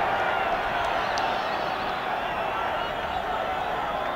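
A big rugby league crowd of Hull supporters at the Boulevard in 1982 roars steadily, a dense continuous wash of cheering and voices with scattered claps, loud and unbroken throughout.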